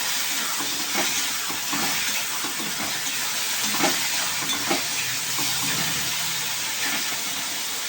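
Onions frying with whole garam masala spices in a pan, a steady close sizzle and hiss with light stirring clinks, no talking.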